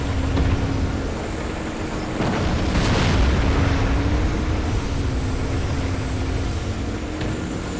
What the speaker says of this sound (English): There's another Artie shell.